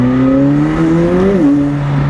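McLaren 765LT engine pulling hard in track mode, a loud rising harmonic howl climbing steadily, then briefly dipping at a gearshift before holding its pitch, close and continuous with no talk.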